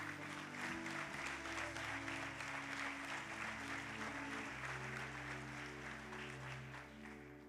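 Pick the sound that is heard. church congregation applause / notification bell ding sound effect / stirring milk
church congregation applause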